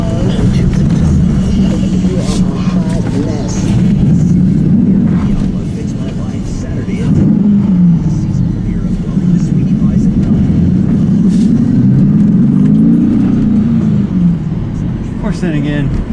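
A Chevrolet Camaro Z28 drives along with its engine giving a loud, close, deep drone that rises and falls with throttle, while a person talks over it.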